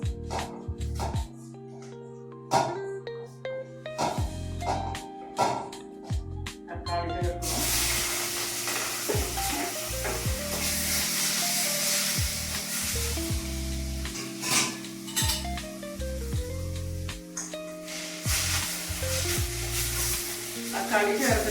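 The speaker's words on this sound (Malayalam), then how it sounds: "തക്കാളി ചേർത്തിട്ടും നല്ലോണം വഴണ്ട് വരണം" Tomatoes sautéing with turmeric and chilli powder in a pan for a dal dumpling curry, a steady close sizzle and frying hiss that broadens partway through, with occasional stirring clatters and music playing underneath.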